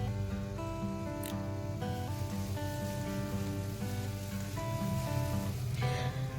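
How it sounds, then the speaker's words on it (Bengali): Spice masala with red chilli powder and Kashmiri chilli powder sizzles in a pan for chicken curry, a continuous crackling fry heard under steady background music. "খুব ভালো করে মশলাটাকে আমি কষিয়ে নিচ্ছি"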